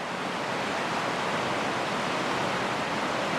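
A deep, flooded river running high enough to spill over a road, giving a constant dense roar of rushing water, close and steady with no voices.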